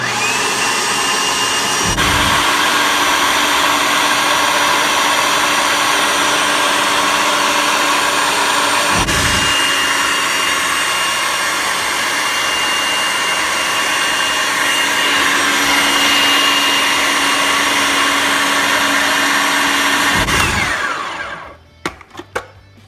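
Homemade hummus with olive oil being pureed in a blender, a loud continuous motor whir running steadily for about twenty seconds with brief pitch dips as it pulses, then stopping abruptly.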